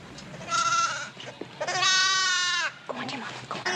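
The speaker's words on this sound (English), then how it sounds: "Well, Trudy, something like this happens every lambing time." A lamb bleats twice at close range with long, wavering, loud cries, and a few small sounds come after it in an outdoor ranch scene.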